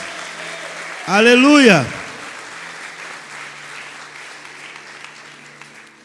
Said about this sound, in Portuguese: Aplauda ao Senhor e glorifique o seu nome, bem forte como Ele merece.